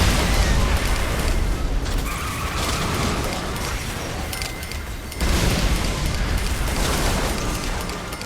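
Loud explosions in the game Saints Row The Third: a dense, roaring wall of blasts and rumble that stays loud throughout, with two heavier surges at the start and past the midpoint, no talking.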